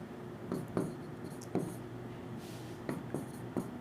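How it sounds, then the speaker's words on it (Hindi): Chalk or marker writing on a board in a classroom lecture: faint scratchy strokes in short bursts, a few distinct taps and scrapes over a quiet room tone, with no talking. "तो मैं आपको यहां लिखता हूं"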